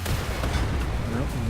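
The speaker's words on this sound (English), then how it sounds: "we gotta test the grenade" A grenade goes off in Wolfenstein: The New Order, a single deep, loud boom with a rumbling tail over continuous game background noise.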